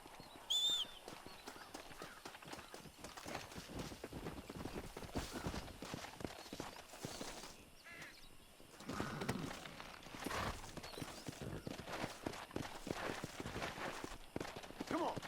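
Horse hooves in the Red Dead Redemption video game, a quick rhythmic clip-clop of galloping that continues steadily for the whole stretch, with game sounds and some voices mixed in.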